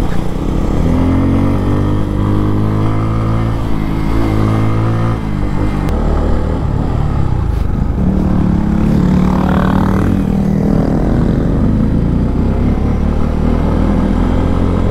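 Yamaha R15 and Bajaj Pulsar N250 motorcycles riding together on a road ride, with a steady, loud engine drone and shifting harmonic tones as revs change throughout, no voices.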